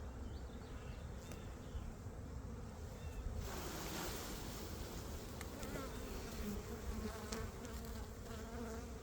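Honey bees being shaken from a frame into a hive, producing a dense, faint, continuous buzzing hum with rustling and a brief thump partway through.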